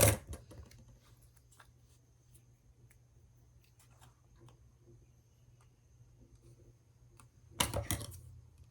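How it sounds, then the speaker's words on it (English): Scissors cutting a paper craft tag: soft, sparse snipping clicks in a quiet room, ending in a louder rustle of handled paper. "Let me cut my tag"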